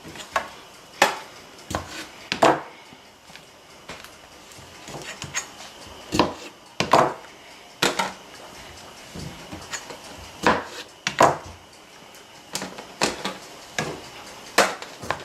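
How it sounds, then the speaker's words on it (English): Knife halving cherry tomatoes on a cutting board, irregular sharp taps and knocks scattered across the clip, fairly close against a quiet kitchen background without talk. "I'm chopping them up into halves"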